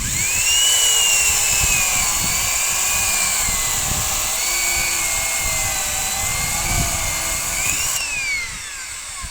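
A Vityaz BP 3150 electric chainsaw runs at a steady high-pitched whine, loud and close, with slight pitch wavers before the motor drops off near the end.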